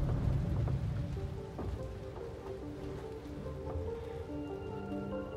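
Timefall rain in the video game Death Stranding falls steadily as a dense, close hiss of drops on surfaces, with a low rumble underneath and faint tonal hum, continuous throughout without speech.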